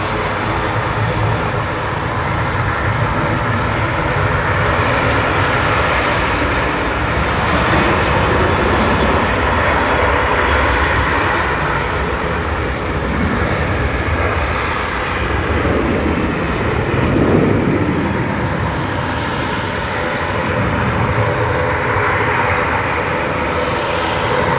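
EasyJet airliner bound for Corfu with its jet engines roaring at Manchester Airport, a loud, sustained broadband rumble that holds steady for the whole stretch and swells slightly near the end.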